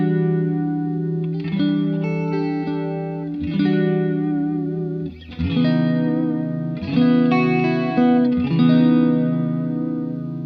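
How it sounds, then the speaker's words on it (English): Electric guitar through a Swindler Effects Gulf chorus/vibrato pedal on a subtle chorus setting, strummed chords ringing out with a gentle shimmering wobble, played alone in several sustained phrases. "I've got it set to a kind of subtle chorus setting, and we'll hear what that sounds like"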